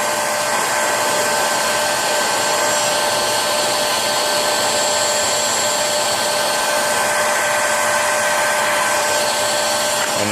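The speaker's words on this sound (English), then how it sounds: "Then we just use the heat gun." Heat gun shrinking heat shrink tubing onto a battery wire, a loud, steady blowing whoosh with a constant motor whine that runs unbroken throughout and cuts off abruptly at the very end.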